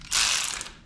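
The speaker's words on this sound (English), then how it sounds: "Let's tighten this down, see if the Hyper Tough can take off what the Milwaukee can put out." A Milwaukee cordless ratchet tightens a bolt with a short, bright burst of fast whirring clicks that lasts under a second and ends abruptly, close and alone.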